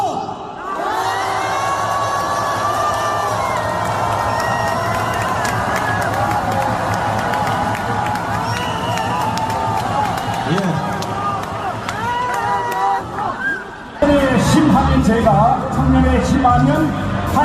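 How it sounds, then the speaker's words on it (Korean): A large political rally crowd in an indoor arena shouts and cheers loudly and continuously, with whoops over dense babble, swelling louder toward the end. "여러분의 함성이 저기 여의도에 있는 민주당 이재명 듣고 깜짝 놀랄 정도로 크게 하셔야 됩니다."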